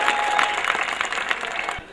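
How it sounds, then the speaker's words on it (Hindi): Crowd applause at a Hindi kavi sammelan poetry gathering: thick, continuous clapping from a large audience that holds steady, then tapers off and fades near the end. "एक बार और जोरदार तालियां बजाकर आपका स्वागत करिए।"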